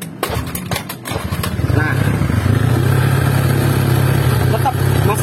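A Honda Vario 150 scooter with a battery-draining fault turns over and then settles into a steady, loud, close idle hum. Someone speaks briefly at the start.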